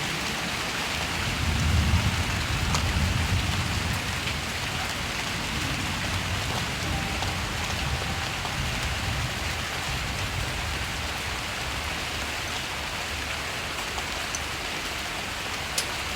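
Heavy rain pouring in Bangkok, heard from just outside a room at the front of a house, a dense, constant hiss of falling water and spattering drops that stays loud and unbroken throughout.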